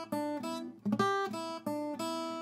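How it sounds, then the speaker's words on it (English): An acoustic guitar picks a lick climbing the open E blues scale, a handful of ringing single notes, one with a quick slide or bend in the middle, played close and clean with no talking. "We're basically climbing up the open E blues scale, and the first couple of notes go like this."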